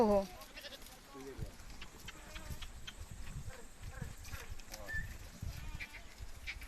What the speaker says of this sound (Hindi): ये भेड़ दिखाएंगे बगा भेड़